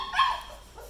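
A puppy in a kennel gives a single short, high whimpering cry that fades away, fairly faint and alone.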